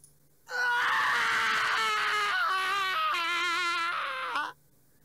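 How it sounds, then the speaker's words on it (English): A long, drawn-out scream from a female character in the video game ChäoS;HEAd, loud and wavering with a shaky, sobbing quality, lasting about four seconds between short silences. "That scream, though."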